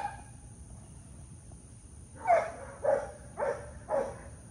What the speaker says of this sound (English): the big dogs barking